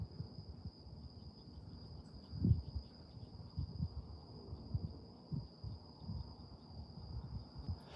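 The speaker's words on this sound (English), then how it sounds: "Yeah, there are some crickets." Crickets chirp at night on a porch, a faint, steady high-pitched trill running through the whole stretch beneath soft low background rumbles and occasional dull knocks.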